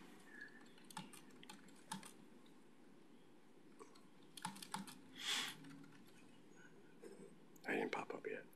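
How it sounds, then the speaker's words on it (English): Keys tapped on a computer keyboard during a council meeting, faint and close, in irregular bursts and clusters over a quiet room with soft whispering. "I was typing, sorry."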